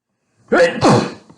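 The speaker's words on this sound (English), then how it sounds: "I'm going to sneeze." A single loud, close sneeze bursts out suddenly from silence, trailing off quickly.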